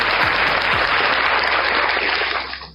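Applause sound effect played from a sound card during a live online event, a dense, loud burst of crowd clapping that holds steady for over two seconds, then fades out.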